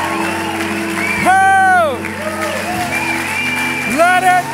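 Church congregation shouting and clapping during a Sunday service, loud voices whooping and calling out over a low, sustained backdrop with some crowd noise and applause underneath.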